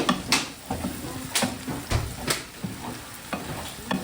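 Lentils, rice and sukuma wiki for a Ugandan family lunch being mixed together in a frying pan: steady sizzle under repeated scraping stirs and soft clatters of a utensil against the pan, close and fairly loud, no talking.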